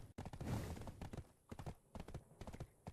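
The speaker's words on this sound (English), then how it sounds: "Park my horse here." Horse hooves clip-clop in a video game, a quick run of close, irregular knocks with a brief thud near the start, then scattered steps as the horse slows and stops.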